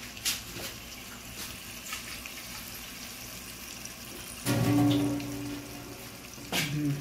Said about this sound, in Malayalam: സ്വല്പം വെള്ളം ഒഴിച്ച് കൊടുക്കാം